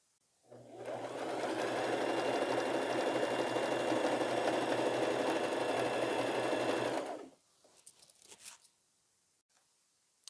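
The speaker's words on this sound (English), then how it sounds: "I go to my machine and stitch it. Now this time I'm going to do a zigzag stitch" Sewing machine running a zigzag stitch on thrifted denim jeans: one steady, loud, continuous whirring run of about six seconds that stops abruptly, followed by a few soft handling clicks and rustles.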